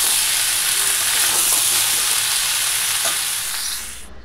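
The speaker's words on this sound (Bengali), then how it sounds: "এখানে ফোড়নে দিয়েছি গোটা গরম মশলা, তেজপাতা আর গোটা জিরে" Whole garam masala, bay leaf and cumin seeds sizzling in hot oil for tempering, a loud continuous frying hiss that fades slightly at the end.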